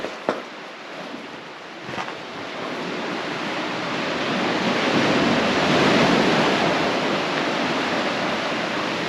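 Sea waves roll in onto a beach beneath rocky holes and caves on the Scottish coast, a broad rushing surf that swells louder midway, with wind buffeting the microphone and a couple of sharp knocks at the start.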